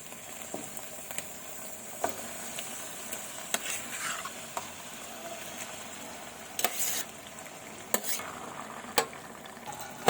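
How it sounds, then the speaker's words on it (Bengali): Mutton pieces with their water tipped into sizzling ground masala in a pan for mutton kosha, giving a steady crackling fry with repeated sharp spatula taps and scrapes, close and without talk. "তো আমি মাংসটা সম্পূর্ণ দিয়ে দিলাম, জল সমেত।"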